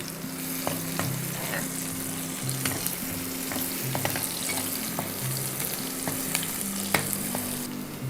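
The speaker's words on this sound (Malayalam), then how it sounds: "കുറച്ച് കറിവേപ്പില പൊട്ടിച്ചത് ഇതിലേക്ക് ഇട്ട് കൊടുക്കാം." Torn curry leaves hit hot oil in a pan of Kerala chicken curry base, giving a strong continuous close sizzle and crackle with occasional stirring taps and scrapes, no one speaking.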